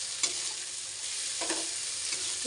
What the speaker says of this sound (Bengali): মশলাটা ভাজা ভাজা হোক তারপরে এর মধ্যে জল দেবো